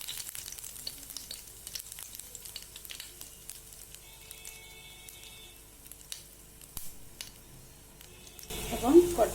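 Panch phoron seeds and dried red chilies fry in hot oil with a faint, steady sizzle and light crackles, quiet and close, ending with a louder burst of sizzling near the end.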